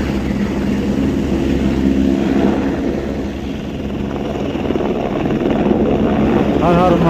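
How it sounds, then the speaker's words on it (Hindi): A loud helicopter drones with a throbbing rotor, the engine rising in intensity as it lifts off, with a voice briefly heard near the end. "यहाँ से उठ गया हेलीकॉप्टर"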